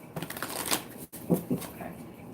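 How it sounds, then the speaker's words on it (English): A deck of tarot cards being shuffled by hand, two quick riffling bursts separated by a short pause, close and fairly clear. "Let's do one more shuffle."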